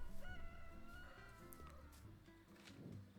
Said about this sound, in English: Did you hear that? That was a rooster.